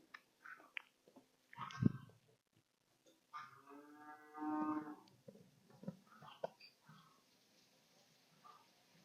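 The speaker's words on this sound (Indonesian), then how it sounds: "Nih, udah terisi kembali nih dengan sapi-sapi." Cattle on a farm moo in several separate calls, including one deep, drawn-out low near the middle, with quieter grunts and shuffling around them and fairly close pickup.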